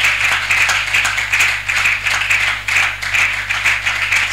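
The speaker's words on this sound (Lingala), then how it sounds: "On peut aussi acclamer pour le pasteur Nela." A church congregation applauds and cheers for a pastor, sustained dense clapping that swells and dips in waves, loud and close, with no talking over it.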